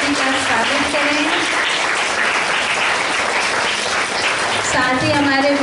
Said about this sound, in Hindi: आप सभी बच्चे एक बार जोरदार तालियों से दीदी का स्वागत करें।